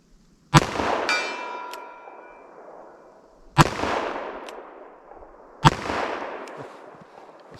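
Three loud handgun shots from .45 ACP and .44 Special pistols at target practice, each a sharp crack followed by a long ringing decay, spaced about three seconds apart with no talking.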